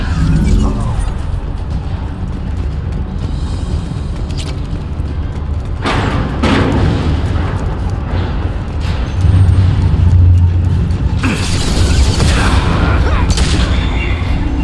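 Gunfire and booming blasts from a firefight in Mass Effect 2 Legendary Edition, a dense, loud barrage of shots and thuds running continuously, with heavier bursts toward the end and voices mixed in.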